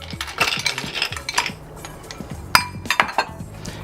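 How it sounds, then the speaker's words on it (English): Ice cubes drop into an old fashioned cocktail glass, giving a series of sharp, close glassy clinks and rattles in two bursts with a short pause between. "Cap that off with a little more ice."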